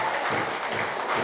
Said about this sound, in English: give her a round of applause again, ladies and gentlemen